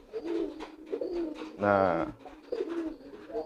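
Racing pigeons in a loft coo in soft, repeated throaty bursts, with one louder, fuller coo in the middle. A person talks between the calls.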